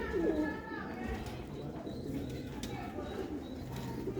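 Old pure Sialkoti pigeons coo softly in a low, rolling burst near the start, then a few fainter coos follow over a steady background murmur.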